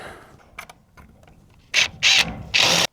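A drill driving screws into door hinges, a few faint clicks followed by three loud, close bursts of whirring, the last one longest, with no talking.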